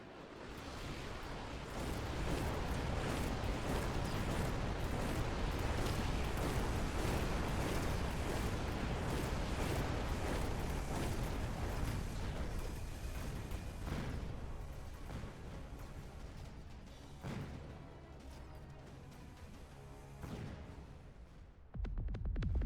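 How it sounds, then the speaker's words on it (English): An off-screen artillery bombardment rumbles in the Mechabellum strategy game as a dense wash of deep booms and rolling blasts, loud at first, then thinning and fading before a brief final thump. "protected from a missile and from this off-screen bombardment"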